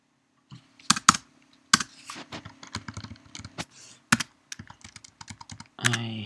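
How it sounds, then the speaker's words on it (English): Typing on a computer keyboard while programming in Unity: irregular bursts of crisp keystrokes separated by short pauses, close up and clear, ending in a louder cluster of clacks. "typing, but it's the best way"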